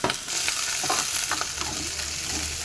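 Sliced onions frying and being stirred in a pan for a prawn and fish curry, a steady close sizzle broken by scraping strokes of the spoon, with no talking.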